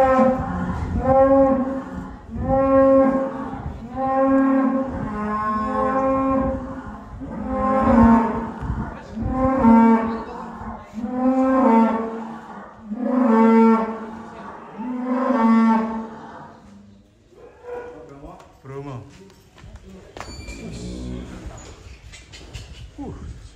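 Jumbo cattle in a pen at a large-cattle farm in Boyolali moo loudly and repeatedly, long deep calls following one another at close range, ending with some shuffling and rustling in the pen.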